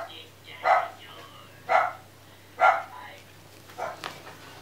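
A dog barks three times in a steady rhythm, followed by a softer fourth bark. The barks are close and clear over a quiet indoor background.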